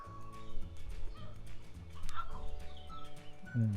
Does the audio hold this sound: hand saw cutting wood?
no